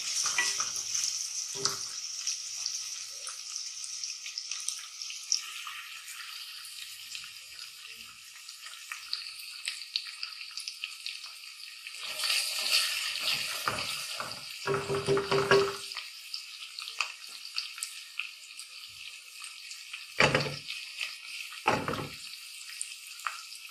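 Food for korma sizzles and crackles steadily in a hot pan, with occasional clatters and stirring knocks, close and moderately loud with no talking.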